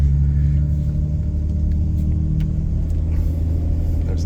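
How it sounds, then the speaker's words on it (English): A deep, steady exhaust rumble from a built Toyota Land Cruiser FZJ80 drones continuously while it cruises, with light road noise over it. "I was too interested in listening to the exhaust, just driving it."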